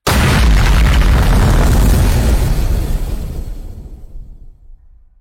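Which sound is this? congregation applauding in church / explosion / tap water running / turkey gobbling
explosion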